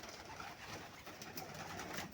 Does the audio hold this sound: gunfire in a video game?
no